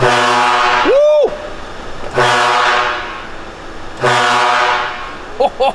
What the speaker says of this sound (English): I've also got to check the air horn.